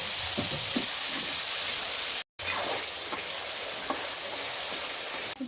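Potato pieces fry in hot oil with a loud, continuous, close hiss and crackle, broken once by a brief moment of silence before the sizzle resumes.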